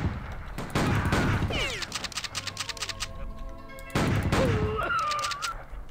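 Gunfire in the Western video game Outlaws, sharp bursts of shots with whooshing effects, followed by quieter stretches and another loud burst near the end, mixed with game sound effects.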